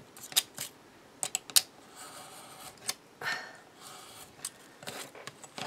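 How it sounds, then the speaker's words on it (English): A knife trims paper for a handmade book, giving several short, dry scraping and slicing strokes scattered across a quiet room, fairly close and soft, with no talking. "so take ye olde knife and trim it down"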